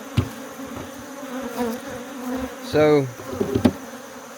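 Honeybees humming around an open laying-worker hive during an outdoor hive inspection, a steady close buzz with one louder bee passing near, while someone speaks briefly.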